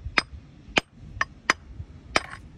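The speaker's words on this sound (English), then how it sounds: "Give it a really good crack with this cleave end of the hammer." The cleave end of a hammer strikes seaside rock to split out a fossil ammonite, giving five sharp, close metallic cracks at an uneven pace.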